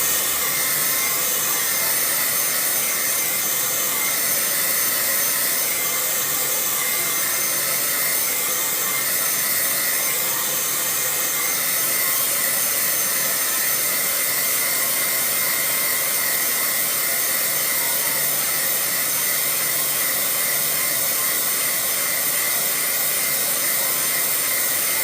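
A hair dryer blows steadily and loudly close by throughout, drying fluorescent pink paint dots on a canvas, its even whooshing hum unbroken from start to finish.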